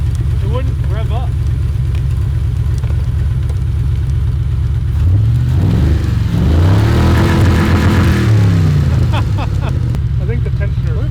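A Chevrolet Blazer with a twin-turbo LS engine and a frozen tensioner rumbles loudly and steadily, straining upward in pitch midway as it tries to rev. People talk over the engine noise.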